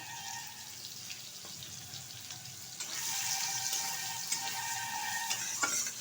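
Pointed gourd (potol) with turmeric frying in oil, with a steady hiss that grows louder partway through as the pieces are stirred and occasional spoon scrapes.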